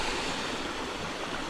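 Steady, loud rushing of the Cascata da Professorinha waterfall in the Brazilian countryside: a continuous broadband roar of falling water with no voices.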